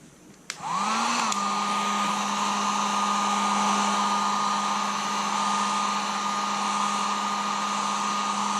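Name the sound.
heat gun warming motocross bike graphics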